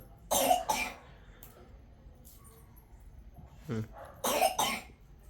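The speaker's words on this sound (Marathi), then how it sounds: "खोकला चालू आहे बाबा सदी चालू आहे" A person with a cold coughs close by, in two double-cough bursts a few seconds apart, with a brief throat sound in between.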